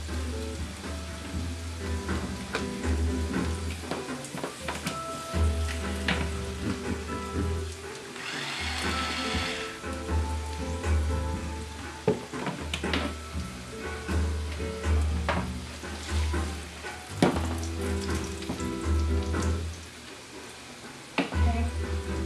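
Philly cheese steak meat sizzling on a hot burner, a continuous crackling hiss that runs steadily throughout with scattered pops and kitchen clatter, fairly loud and close.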